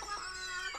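A cartoon chicken clucks briefly in the LEGO Vidiyo app game, a short, faint squawk with no talking over it.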